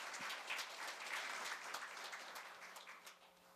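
Audience applause of thanks fills a Korea University labour graduate school evening event hall, a steady dense clapping from a large seated crowd that holds throughout and thins slightly toward the end.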